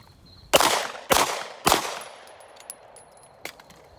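Three sharp Glock 45 pistol shots bang in quick even succession at an outdoor shooting range, each ringing out with a short tail, followed by faint clinks and small knocks.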